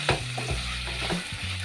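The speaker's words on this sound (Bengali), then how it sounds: "এই সবজিগুলো দিয়ে আমি কিন্তু আবারও একদম ভালো করে নাড়িয়ে নিব" Vegetables for sago khichdi sizzle in a frying pan while a utensil stirs them, giving a few close scraping strokes over a steady low fry.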